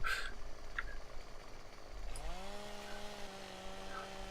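Chainsaw-like cutting trimming the end of a piece of wood: a rough buzzing start, then an engine whine that rises and settles into a steady drone, fairly close and alone.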